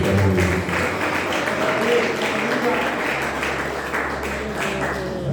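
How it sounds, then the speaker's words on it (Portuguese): A church congregation claps together at an evening worship service. The sustained, even clapping runs beneath a voice and tonal music or singing. "As palmas para Jesus."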